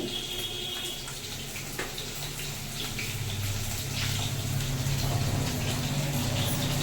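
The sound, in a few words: pot of rice boiling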